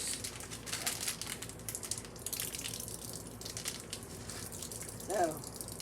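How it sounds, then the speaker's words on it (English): Cabbage juice drained from a container into a sink while cooking General Tso's chicken, a steady mid-level splashing pour with some crinkling, ending in a brief louder gurgle near the close. "drain our cabbage with the juice"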